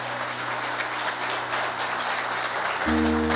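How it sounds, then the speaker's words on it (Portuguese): A church congregation applauds with a steady wash of clapping, and a low sustained organ or keyboard tone sits underneath and then swells near the end. "Aplauda o Senhor"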